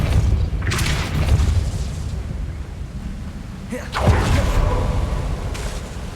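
Depulso force spell cast in Hogwarts Legacy, two deep whooshing booms with a bright burst on top, the second one heavier, set against a low steady rumble.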